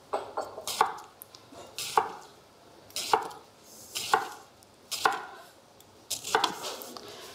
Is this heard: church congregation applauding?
no